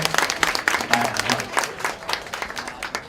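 An audience at a speech by two founding chairpersons claps steadily, a dense, even patter of many hands filling the room, with some crowd murmur mixed in.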